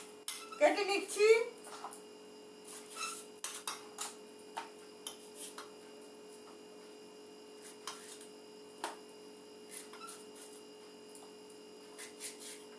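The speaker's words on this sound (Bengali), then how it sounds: "এখন আমি আমটাকে এইভাবে কেটে নিচ্ছি।" A knife cuts a raw green mango in a kitchen, producing sparse, quiet tapping clicks of the blade striking a board, scattered irregularly over a low steady hum, with a short burst of speech at the start.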